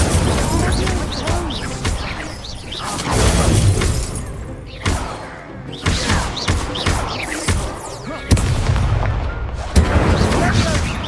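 The Incendio fire spell is cast again and again in the video game Hogwarts Legacy, dense loud bursts and crackling blasts mixed with other combat noise, while a voice talks over it.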